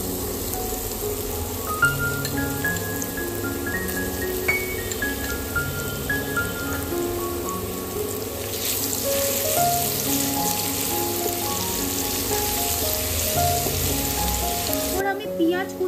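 Chopped garlic fries in lightly heated oil in a pan, a continuous sizzle with popping and crackling that grows denser partway through and then cuts off near the end. There is no talk.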